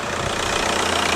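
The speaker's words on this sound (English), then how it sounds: "I'm gonna turn off that annoying diesel and we'll see what it sounds like." A diesel engine runs at a steady idle, loud and close, with a continuous rough rumble and no talking.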